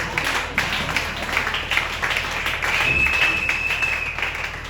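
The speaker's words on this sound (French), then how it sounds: "Est-ce que tu peux pas acclamer pour le Seigneur?" A church congregation applauding and cheering for the Lord: steady, fairly distant crowd clapping with a roomy wash of voices, continuous for several seconds at moderate level.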